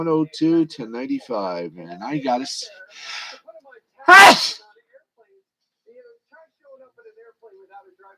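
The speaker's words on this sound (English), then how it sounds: "wow, that was a sneeze." A single loud, sharp sneeze bursts out close to the microphone, following a man's speech reading basketball scores, then a short breathy pause and quiet murmuring afterward.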